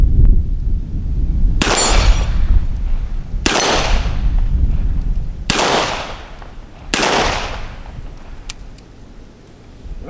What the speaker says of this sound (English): Let's do a little more shooting here.